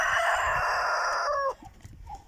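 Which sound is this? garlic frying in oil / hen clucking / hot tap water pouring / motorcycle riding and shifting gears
hen clucking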